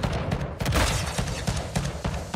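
Gunfire in the video game Call of Duty Warzone 2.0, a dense burst of rapid shots and booms packed tightly together, loud and continuous across the whole moment with no talk over it.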